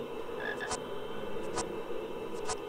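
A chocolate frog croaks in the Harry Potter and the Sorcerer's Stone video game, giving three short, evenly spaced croaks about a second apart over a steady background hum.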